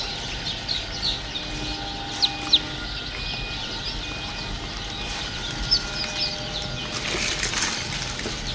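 Newly hatched chicks at a hatchery cheep and peep in a dense, high-pitched chorus, with a few sharper chirps standing out over a steady background hum of machinery.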